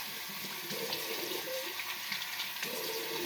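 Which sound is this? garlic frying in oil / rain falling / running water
running water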